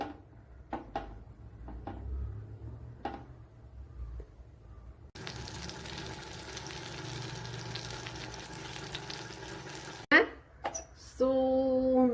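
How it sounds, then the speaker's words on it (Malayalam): Tapioca cutlets shallow frying in a pan give a steady broadband sizzle through the middle stretch, with scattered clinks and kitchen handling before it and a few sharp knocks and a tonal beep near the end. "ഒത്തിരി ഡീപ്പായിട്ട് അങ്ങ് ഫ്രൈ ചെയ്യണ്ട ചെറിയ രീതിയിൽ ഒന്ന് ഫ്രൈ ചെയ്തെടുത്താൽ മതി"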